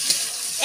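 Chopped tomatoes drop into a hot frying pan with fried potatoes for a snakehead fish curry, giving a brief steady hiss of sizzling oil, close and fairly loud.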